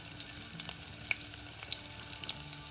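Garlic, chana dal, urad dal and mustard seeds frying in hot oil for a South Indian gongura dal tempering, giving a steady close sizzle with a few sharp pops and crackles.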